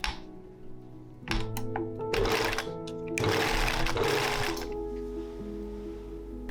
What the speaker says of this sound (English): The velvet panels were then sewn together so that I could start to assemble the skirt.